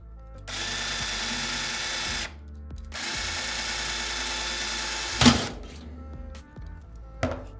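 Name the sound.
power drill drilling out a pop rivet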